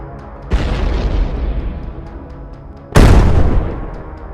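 Two loud, deep explosions from drone strikes on a column of military vehicles, each a sudden blast followed by a long rolling decay, spaced a few seconds apart.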